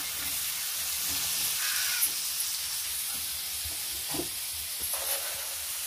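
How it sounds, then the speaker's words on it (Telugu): Onions and green chillies fry in a pan, producing a constant, even sizzling hiss at moderate volume with a few faint clicks of stirring. "దాంట్లో ఉల్లిపాయలు పచ్చిమిర్చి వేసుకుంటున్నాను. సూపర్గా మంచిగా ఫ్రై చేసుకోవాలా."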